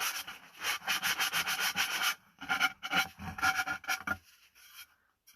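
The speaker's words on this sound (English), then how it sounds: "So you can use sandpaper and a sanding block too, or just sandpaper" Hand sanding of small wood pieces with sandpaper: close, rhythmic rasping strokes for about two seconds, then a pause and another uneven run of scraping rubs that tapers off into quiet, with no voices.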